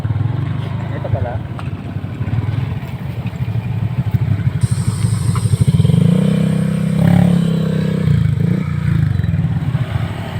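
A motorcycle rides along a rural road past farm fields in Dinggalan, its engine a steady low rumble with rattling and scraping from the rough surface. The engine note shifts midway, and indistinct voices come through now and then.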